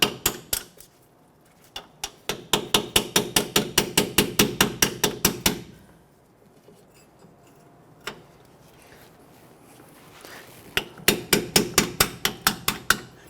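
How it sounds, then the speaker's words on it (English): Rapid runs of sharp metallic hammer taps on a pry bar handle, working loose a brake hose clip on a Nissan Frontier, in quick, even rhythm, close and loud, with a pause midway before another fast burst of tapping. "I'm going to use my hammer and tap the handle and trying to work that clip up."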